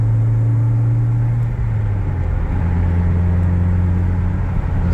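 A steady, loud engine drone and road rumble from a right-hand-drive Integra cruising, with a low hum that shifts pitch slightly midway; no talking.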